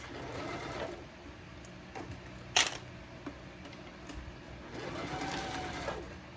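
Sewing machine basting a bowler bag, a steady mechanical whirring of stitching in bursts, interrupted by a sharp click partway through, with a fan humming in the background.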